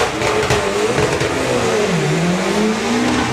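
Drag racing doorslammer car launching down the strip, a loud sustained engine roar that climbs in pitch as it accelerates away, dominating the scene with no talk over it.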